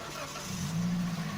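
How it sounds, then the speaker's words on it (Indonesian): A 2016 Daihatsu Great New Xenia car engine starting after a battery replacement, with a short crank that catches into a low, steady idle rumble, close by. "baru kita akan coba menyalakan mesin mobilnya"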